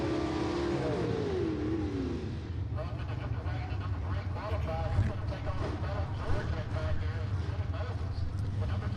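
Gasser drag cars roar off the start line at a Southeast Gassers race at Mt. Olive Dragway: a loud, dense blast of engine noise with rising revs at first, then sustained, under an announcer's voice.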